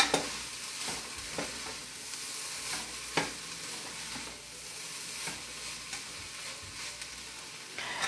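Spaghetti sauce with mushrooms is stirred in a pot, with a steady soft sizzle and scattered scraping clicks of the spoon recurring every second or so, close and moderately quiet.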